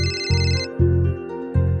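A mobile phone ringtone plays in a family home, a bright electronic melody with a repeating pulsing pattern in several even bursts, close and clear, with no talking.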